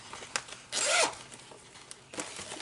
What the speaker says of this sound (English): I'm going to just zip this up.